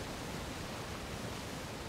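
A waterfall in the video game Uncharted: Legacy of Thieves gives off a steady, even hiss of rushing water, faint and unbroken throughout.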